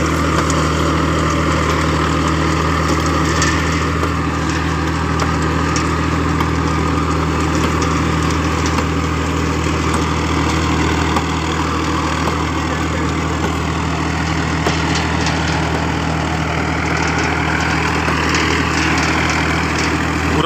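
A Farmtrac 60 tractor pulls a Shaktiman super seeder through a field thick with paddy straw, its engine holding a loud, steady, unbroken drone close by with no pauses or voices.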